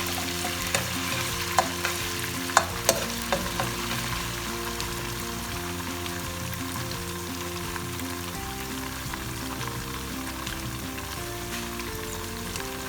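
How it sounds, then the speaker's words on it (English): Continuous sizzling and bubbling of tomato puree frying in a pot over medium heat, close and steady, with occasional sharp pops and scraping clicks. "we're still frying it on medium heat"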